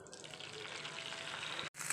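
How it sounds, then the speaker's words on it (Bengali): An egg fries in a kadai with a steady, soft sizzling hiss throughout, broken by a brief pause near the end. "আর একটা অন্য কড়াইয়ের মধ্যে ডিমটাকে ভেজে নেব।"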